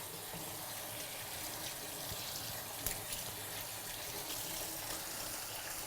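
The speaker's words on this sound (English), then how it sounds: "rinse your hands off with warm water" Warm water runs steadily from a tap while hands are rinsed during handwashing, a close, continuous rushing splash with no talking.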